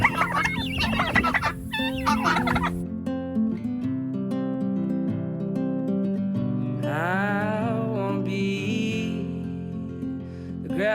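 Guinea fowl and chickens around a portable coop cluck and chatter steadily at close range, a busy overlapping flock with occasional sharper calls rising above the constant murmuring.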